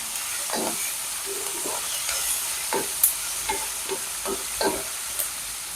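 Onions sautéed with a pinch of salt in a pan, a steady low sizzle broken by scraping stirs of a spoon at irregular intervals, close by, with no talking.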